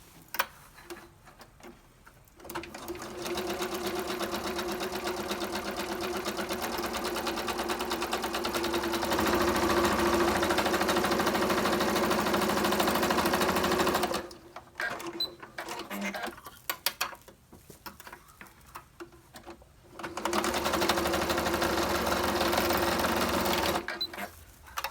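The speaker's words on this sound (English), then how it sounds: "just do some random stitches across, and all I'm doing is getting the fabric to stick to the batting" A sewing machine stitches random straight lines through fabric and batting for an oven mitt, running in long steady bursts of rapid close stitching with brief pauses between runs.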